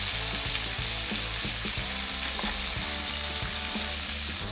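Chicken sears in a hot pan for a Nashville hot chicken and rice one-pot dish, giving a loud steady sizzle with repeated scraping knocks as pieces shift against the metal.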